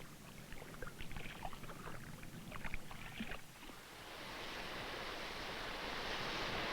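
Ocean waves roll toward a beach, a steady broad wash of surf that swells and lingers, with some splashy rippling water and faint wind in the first half before a smoother, continuous roar.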